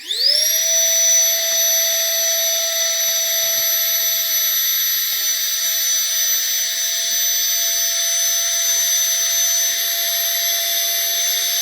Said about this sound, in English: So that is sucking all the air out.